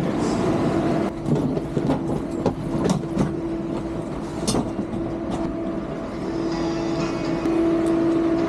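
The KLIA Express airport train in Kuala Lumpur rumbles steadily with a low hum as it departs, overlaid with scattered clacks and rattles from the carriages.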